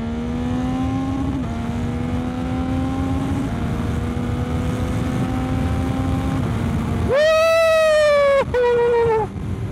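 Motorcycle engine with a flashed ECU idling steadily, then revved hard to redline in a sharp, loud rising scream that cuts off and fires again briefly, close up.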